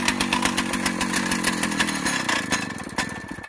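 A Tecumseh two-stroke engine with a freshly repaired diaphragm carburetor fires and runs steadily, a loud, close, buzzing drone with rapid firing pulses, rising in pitch briefly before settling, heard alone without talk.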